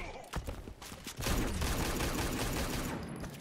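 Rifle shots from Deadshot in the Injustice fighting game ring out amid dense, continuous battle noise, a few sharp reports followed by a sustained loud roar, with commentary partly audible underneath.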